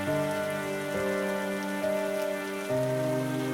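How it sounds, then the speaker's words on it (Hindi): Steady rain hisses beneath sustained, droning musical tones in a narrated Hindi story scene set at a riverside house, with the downpour soft and even rather than building. "बारिश बूंदों और फिर बौछार में बदल गई।"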